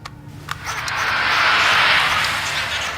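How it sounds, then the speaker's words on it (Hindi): A heavy SUV-type engine on a tape recording, swelling into a broad roar as the vehicle passes by, building after a brief thump and holding loud to the end, with no talk over it. "एक एसयूवी टाइप हैवी इंजन की आवाज है"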